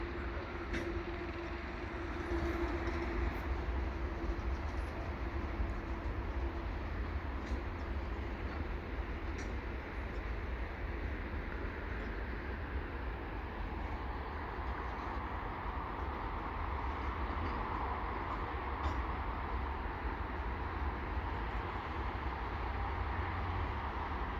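A steady low rumble of a westbound CN freight train rolling slowly along the tracks toward a stop at Turcot holding tracks, with faint squeals and clanks. It stays continuous and fairly distant, and no voices are heard.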